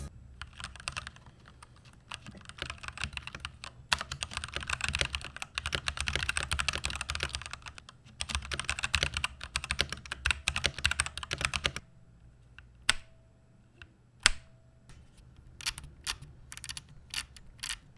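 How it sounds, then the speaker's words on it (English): Typing on a modular NZXT Function tenkeyless mechanical keyboard with red linear switches, a loud continuous clatter of keystrokes for about twelve seconds, then sparse single key taps with pauses between them. "which makes the keyboard sound loud while typing"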